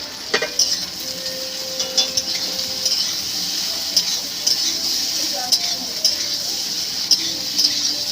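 Fried potato being stirred into a pan for pasta, with rhythmic clinks of a spatula against the pan over a soft background sizzle, the taps recurring about once a second.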